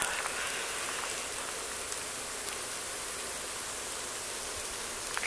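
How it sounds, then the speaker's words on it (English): Steady hiss of freezing rain falling on surfaces in extreme cold in South Mississippi, dense fine pattering with occasional light ticks of ice, even and continuous with no voices. "It's raining ice here in South Mississippi."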